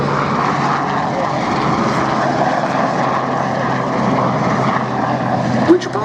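At an air show, a Sea King helicopter flies past with a steady, loud engine and rotor drone that holds evenly for several seconds, with a brief sharper sound near the end.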